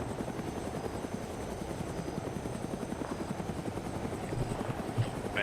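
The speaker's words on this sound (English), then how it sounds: "friendly aircraft, friendly reinforcements entering town" Helicopter arriving in the military video game Arma, a steady chopping rotor drone with dense low-frequency pulsing, continuous and fairly close throughout, no voices.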